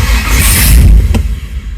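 A Chevelle V8 fitted with a newly swapped carburetor cranks and catches, then revs loudly up close before the idle drops back, with a brief sharp click partway through.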